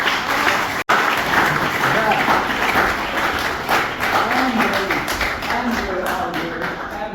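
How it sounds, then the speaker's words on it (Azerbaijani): An audience at a student music concert claps in sustained applause that runs the whole time as a dense, even wash, with a brief dropout near the start. "Ən böyük alqış, bu igid, deməli"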